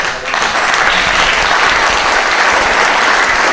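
Steady applause from an audience at a surf film festival opening night in Honolulu fills the space, a dense wash of clapping that holds evenly from start to finish.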